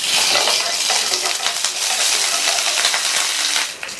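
Cumin and spices tempering in hot oil give a loud, dense crackling sizzle with quick spatters, along with light metallic clinks from stirring, before the sound eases off near the end.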